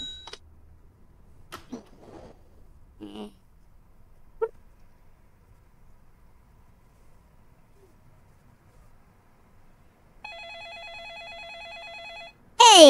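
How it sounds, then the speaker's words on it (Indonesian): A telephone rings in a bakery shop simulation game, a steady electronic trill lasting about two seconds near the end after scattered quiet clicks and chimes, followed by a sharp loud burst. "Ada telepon. Angkat dulu telepon, guys."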